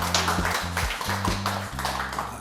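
A talk-show studio audience gives a dense, continuous round of applause to welcome a guest, with low background music playing underneath.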